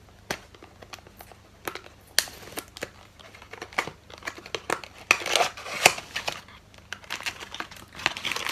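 Close crinkling and tearing of packaging, irregular rustles and snaps coming in quick bursts, with no speech.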